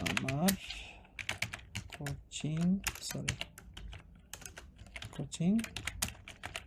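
Quick clattering keystrokes on a computer keyboard arrive in uneven bursts while a person speaks over them.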